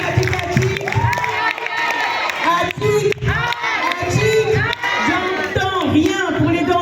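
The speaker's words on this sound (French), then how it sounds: "Va falloir les applaudir plus fort que ça." A lively crowd cheers, whoops and claps for dancers at a December show, with children shouting and voices overlapping in a loud, continuous roar of excitement.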